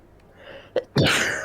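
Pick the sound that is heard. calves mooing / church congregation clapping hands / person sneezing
person sneezing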